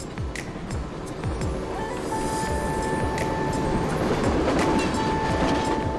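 Myanmar passenger train running on rails from an ordinary-class carriage with hard wooden seats, a steady rumbling clatter of wheels over track with rhythmic clicks and a thin sustained squeal, loud and close throughout.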